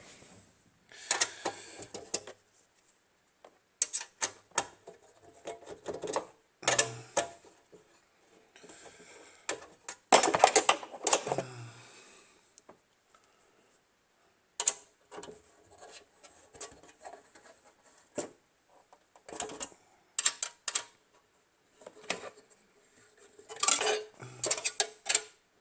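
Screws being tightened on the radiator bracket of a 2005 BMW X5 E53 4.8is: irregular close metallic clicks, taps and scrapes of tools and fasteners, with short quiet gaps and no talking.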